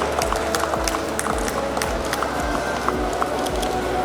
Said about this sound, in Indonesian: Sekali lagi kita iringi dengan tepuk tangan yang meriah, Bapak dan Ibu.